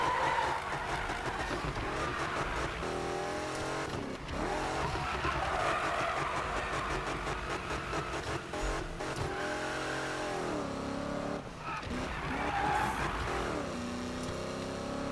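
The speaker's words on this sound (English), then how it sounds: "Get a little cheeky notch drift going" A car drifts in the Need for Speed 2015 video game, engine revving up and down while tires squeal and skid in repeated long slides, loud and close with game music or effects layered over it.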